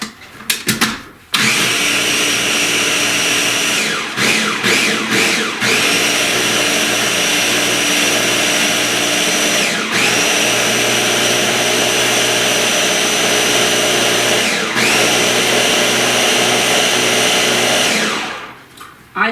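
A blender whirs steadily for most of the stretch, mixing a flourless, sugar-free pumpkin oatmeal muffin batter. The motor is loud and close, with brief stops and restarts around the early seconds and a couple of short dips later.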